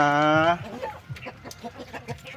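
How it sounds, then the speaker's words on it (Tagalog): A chicken sick with fowl pox gives a short drawn-out squawk, followed by a few soft clucks and scratchy rustling close by. "Ito yung isa nating manok na"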